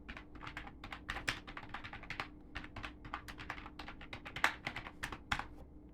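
A command is typed on a computer keyboard, a rapid close run of crisp key clicks with uneven rhythm over a faint steady hum, quiet overall and with no talking.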